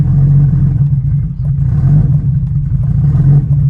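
A car engine idles on a slight, steady throttle, a loud, close low rumble with faint clatter running unbroken throughout, with no talk.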